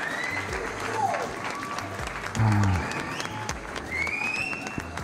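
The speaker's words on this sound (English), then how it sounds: "give yourself a round of applause" A short round of applause from a live studio audience, moderately loud for a couple of seconds and mixed with a voice talking.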